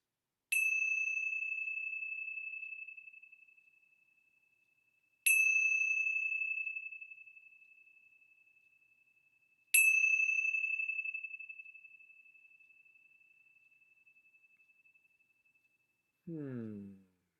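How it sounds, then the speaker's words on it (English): Three clear bell strikes, spaced several seconds apart, each ringing out and slowly fading in quiet surroundings, followed by a brief voice. "let's begin our time together with the ringing of the bells."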